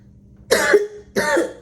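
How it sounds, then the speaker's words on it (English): Two harsh coughs, close and loud, separated by a short pause, with near silence around them. "I'm still coughing."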